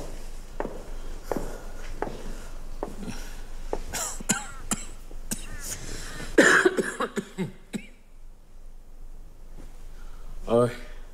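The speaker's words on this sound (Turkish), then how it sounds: "Kötü öksürüyorsunuz." A woman coughs hard in a series of sharp, repeated bursts indoors, close to the listener, mixed with footsteps and spoken voices in a Turkish drama scene.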